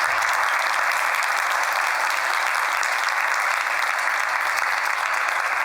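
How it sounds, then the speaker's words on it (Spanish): Sustained, loud applause from a conference audience after a keynote lecture, an even, dense roar of many hands clapping that holds steady throughout without pause. "Un gran aplauso nuevamente"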